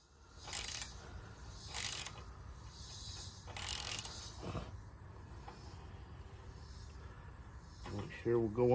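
A leftover broken bolt is tapped out of a cat's scratching post with a series of sharp metallic strikes, about four spaced hits, followed by a moment of speech at the end.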